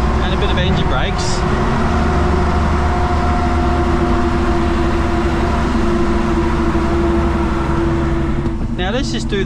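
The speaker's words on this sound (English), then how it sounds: "And a bit of engine brakes." A heavy truck with an 18-speed Road Ranger transmission drones steadily with low, rumbling harmonics while engine braking in traffic, heard close and continuous with road noise throughout.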